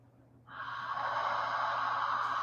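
A single long, audible breath pushed out through the nose during a yoga twist begins abruptly after a quiet moment and holds steady as a close, airy rush until the end.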